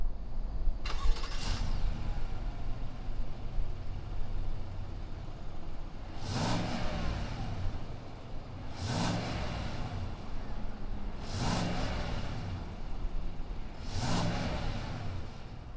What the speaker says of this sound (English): Let's go ahead, start it up, and see what does this Sierra sound like.